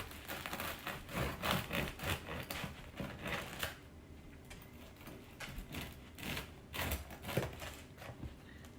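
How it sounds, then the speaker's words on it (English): A knife saws through a warm, crusty loaf of French peasant bread, giving a close, steady run of dry crackling crunches in rhythmic strokes, fairly quiet and with no voice over it. "I hope you can hear the crunch that this bread has when I cut it."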